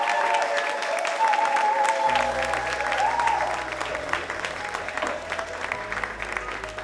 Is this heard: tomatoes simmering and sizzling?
no